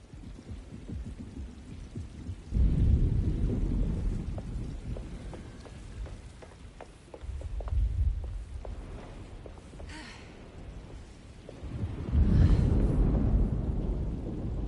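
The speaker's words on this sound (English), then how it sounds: "Looks like a storm's coming" A thunderstorm in the Alone in the Dark game: steady hissing rain with repeated deep rolling thunder surges that swell and fade across the scene, loud and enveloping, with no talking.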